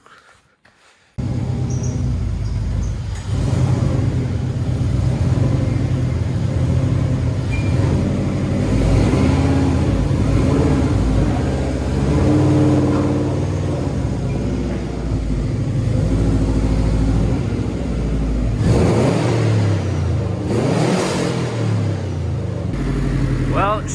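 A classic Subaru Impreza with a paddle clutch pulls out, its engine a steady loud rumble throughout, rising briefly near the end as it revs, with faint speech mixed in.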